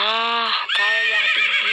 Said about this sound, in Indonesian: namanya kuda